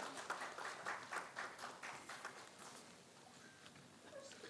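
Audience applause welcoming the chief guest at a national railway modernization conference, a faint, distant patter of many hands clapping that slowly fades out.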